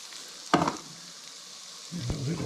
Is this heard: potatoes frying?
yes